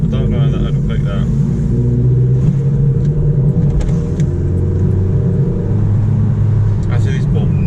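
An Opel Corsa D with a performance air filter revs at full throttle in second gear: a loud, droning engine roar from inside the car, with people talking over it.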